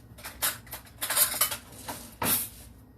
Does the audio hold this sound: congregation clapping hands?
no